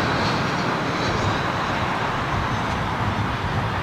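A Turkish Airlines Boeing 777 departs London Heathrow Airport, its jet engines a loud, steady, close roar that holds without a break and with no voices over it.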